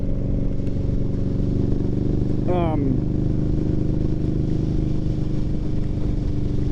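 A 2021 Indian Scout Bobber Twenty motorcycle with aftermarket exhaust drones steadily while riding, a constant loud engine rumble mixed with wind, with a brief rising tone partway through.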